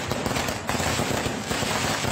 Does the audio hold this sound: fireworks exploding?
yes